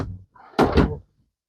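A cabinet drawer on anti-slam slides in a 2018 Forest River Sunseeker 3050 RV closes with a soft glide and a muffled bump, brief and close.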